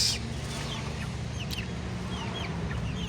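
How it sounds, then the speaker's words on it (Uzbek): Six-week-old chicks and chickens cluck softly with a few high chick peeps over a steady low hum. "3-aprel chiqqan jo'jalarimiz"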